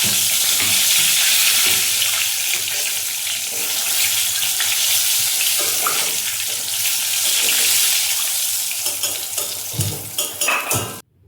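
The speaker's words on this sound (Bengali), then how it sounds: "তো চলো আমি বেগুন ভাজাটা বসিয়ে দিয়ে যাই" Eggplant slices frying in a wok of hot oil, a loud continuous close-up sizzle with faint clinks of utensils, fading out at the very end.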